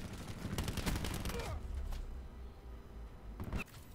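A GKS submachine gun in Black Ops 4 fires rapid close bursts of crackling shots for about a second and a half, followed by quieter pauses and a final short burst.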